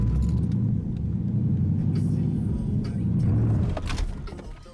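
A manual Dodge Challenger's engine gives a low, steady rumble nearby, with light rattles and a faint key jingle toward the end.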